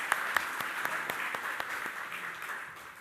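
Audience applause at a Michelin NCM Bash event, a moderate, steady patter of clapping with a few sharper individual claps, heard fairly distant in a large room with no talking over it.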